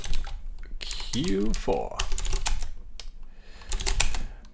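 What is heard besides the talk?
typing on Cherry MX mechanical keyboard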